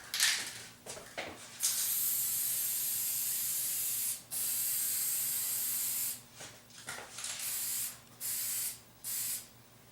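An aerosol can sprays lacquer onto wood in a series of hissing bursts, some lasting a few seconds and others brief, separated by short pauses, close and fairly quiet.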